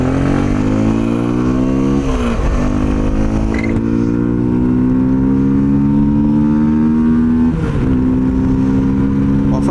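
A 2026 Orcal 125 Tabor motorcycle accelerates through the gears, its engine note climbing loud and close, dipping briefly at each shift before rising again.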